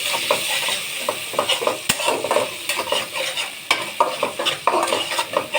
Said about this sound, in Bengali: আমি পেঁয়াজ কুচি দিয়ে দিলাম আর সামান্য একটু রসুন বাটা দিয়ে দিলাম।